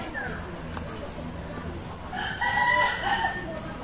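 A chicken clucks and a rooster crows nearby in a village yard, the crow rising clearly in the second half over background chatter and voices.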